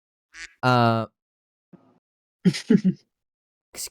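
A person imitates a duck with one loud, nasal quack, surrounded by brief vocal bursts and short gasps, with silent gaps in between.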